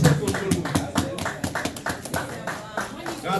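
An audience at a Congolese cultural evening applauds, a dense, uneven burst of many hands clapping up close, with some voices talking underneath.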